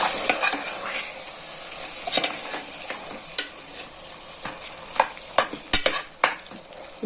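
Quail pieces fry with yogurt in a pan for quail biryani, a soft sizzle under repeated scraping and clinking strokes of a spoon stirring, irregular and close, with no talk.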